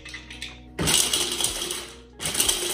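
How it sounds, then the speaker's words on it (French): A blender grinds a small handful of dried fruits in two loud bursts of whirring, crunching noise, with a short pause between them and clattering impacts at the start of each burst. "reprendre une toute petite poignée légère comme ça, voilà, de fruits secs, et on va les mixer"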